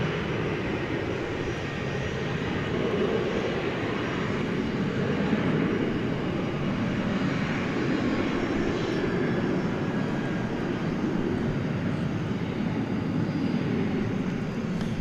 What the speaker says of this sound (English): American Flight 2533 from the city of brotherly love, Philadelphia, Airbus A321.